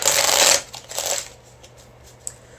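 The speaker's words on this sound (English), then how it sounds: "so I'm just going to shuffle this here" Tarot cards are shuffled in two quick riffling bursts, close and crisp, followed by softer handling clicks as the deck settles.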